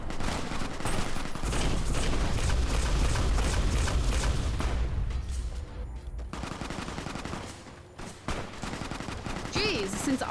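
Rapid bursts of gunfire from a weapon in Fallout: New Vegas ring out loud and close, with dense shots rattling for several seconds before thinning out, then flaring up again near the end.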